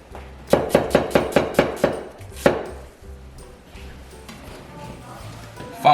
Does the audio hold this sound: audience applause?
no